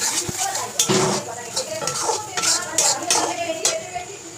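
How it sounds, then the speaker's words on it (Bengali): Spice masala stirred with salt and sugar in an iron wok makes repeated metallic scrapes and clanks of a spoon against the pan, irregular and close, with a faint sizzle underneath. "একটু চিনি একটু নুন দিয়ে নাড়তে থাকছি"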